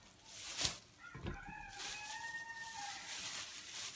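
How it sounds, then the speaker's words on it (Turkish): A rooster crows once, a long drawn-out call at moderate distance, preceded by a few brief knocks and rustles. "Horozum yine ötüyordu biliyorsunuz."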